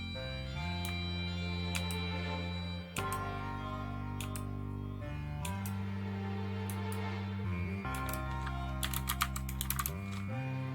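Keys on a GMMK TKL mechanical keyboard are pressed in light, irregular clicking bursts, with a steady tonal music bed underneath and a few quick clustered taps near the end.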